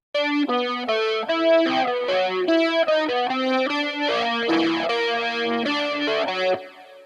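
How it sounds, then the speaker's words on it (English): An electric guitar with a chorus-like effect plays a flowing single-note melody, notes ringing into each other, clear and close, ending with a fade. "Here's what the melody sounds like and looks like on the guitar."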